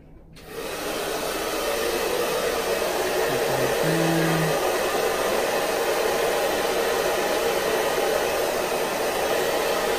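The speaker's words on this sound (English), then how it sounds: "gonna use the blow dryer to put hot air on the fridge where the adhesive is for like a minute or so" A hair dryer blows hot air steadily onto the adhesive on a refrigerator, a loud continuous whoosh that starts abruptly and holds without pause, with no talking.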